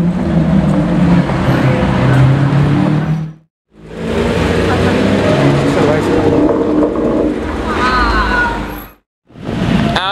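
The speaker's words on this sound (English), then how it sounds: "Aston Martin F1 edition. That is ridiculous." An Aston Martin Vantage F1 Edition sports car delivers a loud, continuous engine roar with road noise, cutting out sharply twice before resuming.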